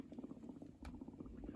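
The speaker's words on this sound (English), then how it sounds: "Makes cool sounds. Yeah, like boiling water." An iSteam garment steamer gurgles and bubbles like boiling water, a close, quiet, rapid burbling that continues without pause.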